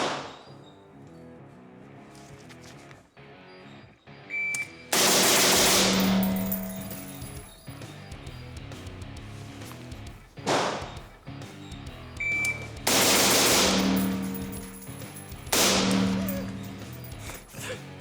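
Gunshots ring out at a shooting range, including a Desert Eagle pistol: several loud, sharp blasts with echoing tails, spaced seconds apart, with quieter handling noise between them.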